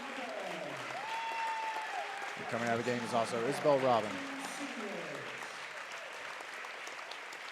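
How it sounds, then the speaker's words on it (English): Parents in a high school gym rise and applaud at a girls' varsity basketball senior night, steady crowd clapping running throughout while an announcer talks over it. "Everybody standing up and clapping as they thank these two hardworking seniors"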